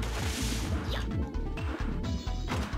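In Mega Man ZX Advent, a halberd bashes an object with repeated heavy smashing impacts, loud crashes and thwacks landing in a quick rhythm over game music.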